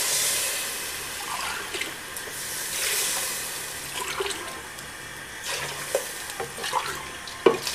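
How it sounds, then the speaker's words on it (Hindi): Water pours into a pot of frying green masala chicken for pulao with sela rice, a steady hissing, splashing rush close by that runs throughout, with a few clinks of a utensil toward the end. "गिलास मैंने पानी इसमें ऐड कर दिया है।"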